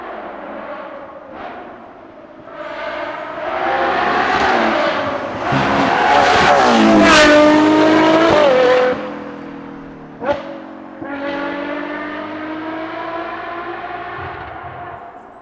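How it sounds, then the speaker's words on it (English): A high-revving Ferrari Purosangue V12 engine with an aftermarket exhaust system screams up through the gears, rising and falling in pitch with sharp shifts, loud and close. "you can hear that V12 engine scream at the top of its lungs"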